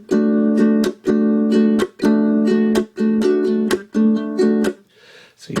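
Ukulele playing a rhythm with just the finger, five even groups of brushed chord strokes, steady and close, with a brief quiet tail at the end.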